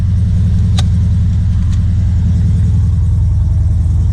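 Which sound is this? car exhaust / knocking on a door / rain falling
car exhaust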